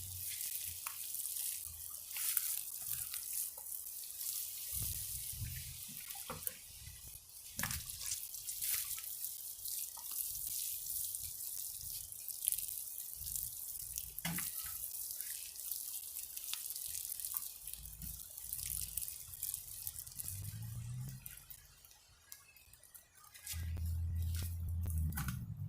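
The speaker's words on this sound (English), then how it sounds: "Water them back in." Water sprinkles and trickles onto a freshly planted garden bed of carrot seeds in a broad, hissing spray with scattered drips, fairly steady, then briefly tapers before a closing low rumble.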